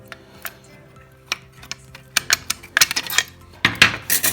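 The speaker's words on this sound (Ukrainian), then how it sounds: "Беремо по одному цьому піну, вставляємо на місце, провертаємо ключ" Small metal pin-tumbler lock pins are dropped into a disassembled safe-type lock and the key is turned. Light metallic clicks and ticks are sparse at first, then come in quicker, denser clusters of clinks and rattles, close and alone.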